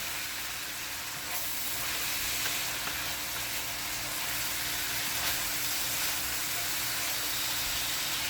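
Minced garlic cooks in oil in a pan for chicken fried rice, producing a continuous even sizzle and hiss at close range that stays level for several seconds without talk.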